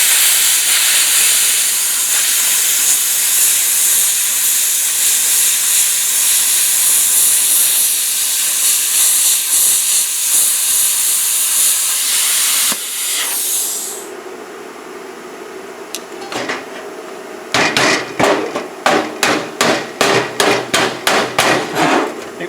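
A VEVOR 50-amp non-touch pilot arc air plasma cutter gives a loud, steady rushing hiss for about thirteen seconds. It then cuts out to a quieter lull, followed by a rapid series of sharp, rhythmic bursts.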